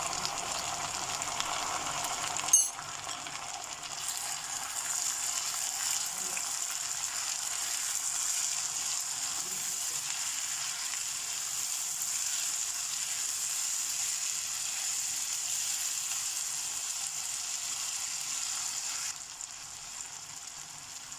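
Ginger garlic paste frying in a pan with browning onions for keema, a steady soft sizzle throughout with one sharp clatter near the start and a faint scrape later.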